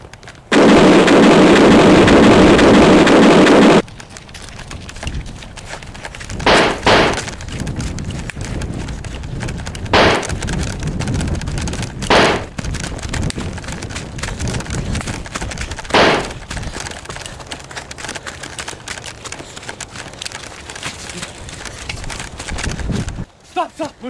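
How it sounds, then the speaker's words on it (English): Battlefield artillery fire at Vimy Ridge, opening with a sustained loud roaring blast, then scattered heavy booms and sharp bursts at irregular intervals over a rumbling background, with shouted voices in between. "First artillery!"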